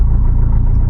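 A Mazdaspeed 3 with a single mass flywheel idles close by, giving a loud, low, steady rumble with a faint rattling texture throughout.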